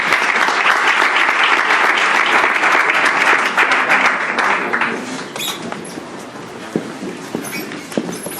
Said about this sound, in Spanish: vamos a darles un aplauso para que se animen.